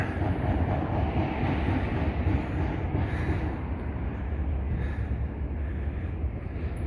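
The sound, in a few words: train passing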